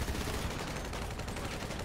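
Rapid gunfire from Grand Theft Auto 5, a dense run of overlapping shots at steady loudness that sounds like automatic weapon fire throughout the short stretch.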